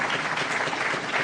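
Lecture audience applauding after a talk on protecting the piping plover, a brief, even wash of clapping from a room of listeners, fairly soft and steady.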